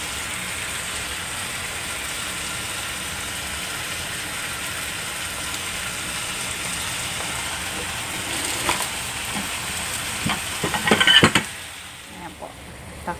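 Chicken wings and tofu frying in a pan give a steady hiss and crackle for most of the stretch, then a few sharp knocks and clatters of cookware near the end before the sizzle drops away.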